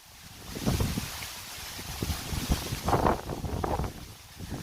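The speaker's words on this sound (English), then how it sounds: "It's so windy. Very windy out here." Strong wind buffets the microphone in steady, roaring gusts at the edge of a forest in a rural Philippine village, with broadband rumble rising and falling throughout and no voices.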